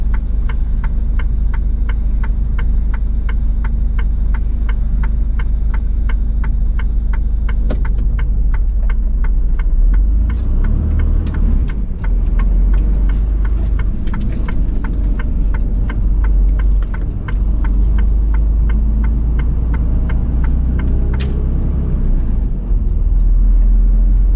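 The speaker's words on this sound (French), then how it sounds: "Et il y a de la circulation par ici hein." Steady road traffic rumbles around a truck cab on a German road, with a loud continuous low engine drone, passing vehicles and occasional swells of noise throughout, heard from inside with no talking.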